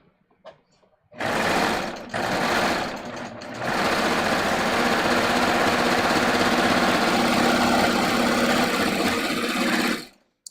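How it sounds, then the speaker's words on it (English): A sewing machine stitches fabric at a 3/8 inch seam allowance. It whirs loudly and close in a short burst, pauses briefly, then runs in one long continuous stretch before stopping. "So I'm going to sew these as if it had a 3/8 inch seam allowance."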